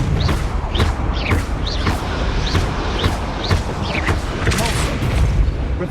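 Confringo blasting spell from Hogwarts Legacy, a string of booming magical blasts and impacts repeating roughly every half second, loud and close amid other spell effects.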